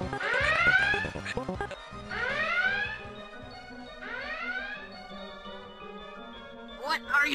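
Rising, siren-like alarm tones blare in three repeating sweeps, loud and close, with a chaotic background beneath and a short burst near the end.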